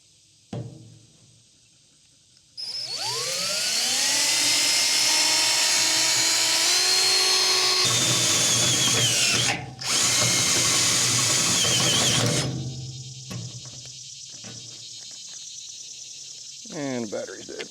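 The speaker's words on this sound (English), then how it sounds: "see if we can get that hole drilled out properly and get that installed." A cordless power drill drills out a hole on a cattle farm, a loud high whine revving up and holding steady for several seconds, briefly cutting out and resuming, then winding down into quieter clicks and handling noise.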